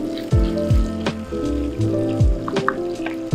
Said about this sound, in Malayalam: അതിലേക്ക് ഇഞ്ചി ആഡ് ചെയ്യാം. ഇഞ്ചിയിലൊന്ന് മൂപ്പിക്കാം.